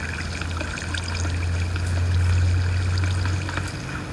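Water flowing steadily in a block-building video game, a continuous pouring trickle at moderate level with a low steady hum beneath and faint clicks over it, no talking.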